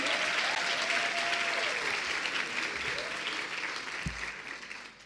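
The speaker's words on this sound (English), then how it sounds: "Let's clap hands for them." An indoor audience claps to welcome panel speakers at a talk, a dense sustained round of applause that gradually tapers off, with a voice speaking briefly over it.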